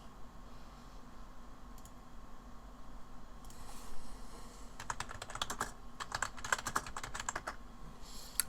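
Fingers type on a computer keyboard in a quiet room, starting with a few isolated taps and building into quick, dense bursts of clicky keystrokes, close and moderately loud.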